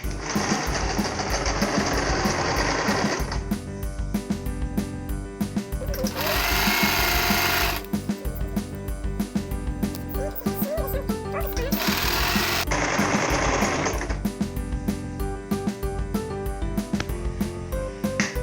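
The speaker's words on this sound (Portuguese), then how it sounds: "Lembrando que eu estou costurando do lado do avesso." Sewing machine stitches the sleeve of a blanket with the fabric inside out, a loud, rapid mechanical whir in long runs broken by brief pauses, close up with no talking.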